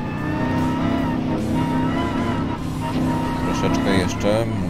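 Race car in the video game Gran Turismo Sport drives with a loud, continuous engine whine, shifting pitch through gears and corners, while someone talks over it throughout.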